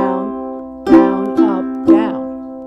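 Ukulele strummed in a down, down, down, up, down pattern: a ringing chord followed by a few crisp strokes, close and clear with no talking.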